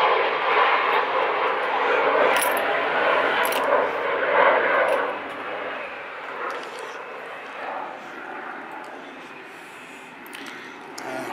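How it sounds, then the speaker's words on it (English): A fixed-wing aeroplane taking off in the distance, a broad rushing engine roar that peaks early and slowly fades away, heard outdoors beside a 1988 Land Rover 110 300Tdi. "Oh, there's an aeroplane taking off."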